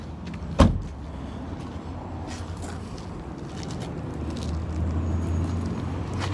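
Trunk of a 2015 Mazda 3 opening: a sharp close latch click and thunk, then a steady low hum of the car settling in the background.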